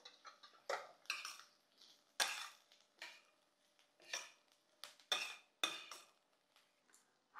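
Turmeric and asafoetida are stirred into onions and coriander in a pan, a spoon scraping and clinking against the metal in short, irregular strokes, close and fairly quiet with silent gaps between.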